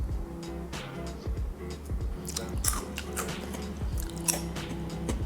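Someone munching tiny ring-shaped potato chip snacks from a Thai 7-Eleven, with close, crisp crunching bites and chewing that repeat steadily over a low background hum.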